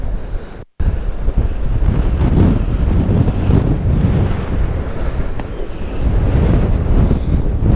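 Strong gusty wind at the pier on James's Island batters the microphone with a loud continuous rumble and roar, interrupted by a brief cut early on, with no speech.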